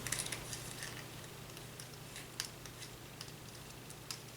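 Scissors snipping paper while fussy cutting around a delicate printed shape for a junk journal collage, faint close crisp clicks and scrapes scattered over a low steady background hum.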